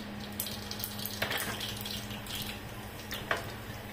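Mustard seeds sputtering and popping in hot oil in a pan, with scattered crackles and spits over a faint steady hiss, close and fairly quiet.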